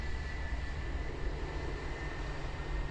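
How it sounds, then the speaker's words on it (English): Qantas Boeing 737-800 taking off at Christchurch Airport, heard as a steady, loud engine roar with a broad rumble and a faint high whine held throughout, no voices. "I reckon Qantas is going to go quite long here because that 737 is going to be heavy."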